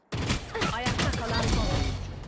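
Gunfire while shooting an enemy in Valorant: a quick cluster of sharp shots over about two seconds, with a voice talking underneath.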